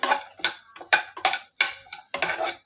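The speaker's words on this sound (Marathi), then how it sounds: "आता मी कढईत तूप घेतला एक चमचा त्यात हे काजू बदाम आपण जे मिक्सरला फिरवून घेतले होते ते तुपावरती चांगले भाजून घ्यायचे" Ground cashews and almonds roasted in a spoonful of ghee in a wok, heard as a spatula scraping and clinking against the pan in uneven strokes, close and fairly loud.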